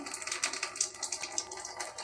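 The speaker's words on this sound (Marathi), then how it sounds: "हे साधं टॅप वॉटर एक काढत आहे" Steady splashing of tap water running into a container, close and continuous, with no voices.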